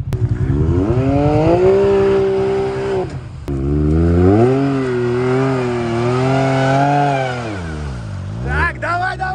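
Off-road vehicle engine revving hard to pull out a stuck vehicle, loud sustained rises and falls in pitch with a short drop in the middle, close to the microphone.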